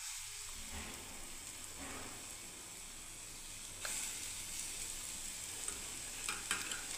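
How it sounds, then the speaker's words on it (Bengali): Bora fritters frying in hot oil in a wok, a continuous soft crackling sizzle that stays steady throughout, with a brief louder burst partway through as more batter drops in. "এবার দেখুন আমি বড়াগুলোকে ছেড়ে দিচ্ছি"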